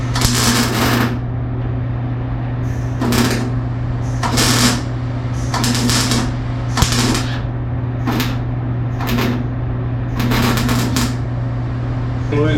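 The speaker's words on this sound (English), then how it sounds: "we're gonna do some welding" Welding tacks on the chopped roof of a rat rod: about a dozen short, crackling bursts come at irregular intervals over a constant low electrical hum.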